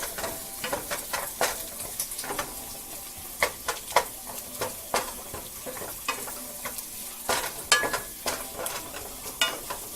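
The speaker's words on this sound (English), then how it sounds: "Just going to toss in my onions. Get that sauteed down." Onions sauté in a pan with ginger and shallots, giving a soft sizzle under repeated sharp scrapes and clacks of a utensil stirring and loosening them, close and fairly quiet.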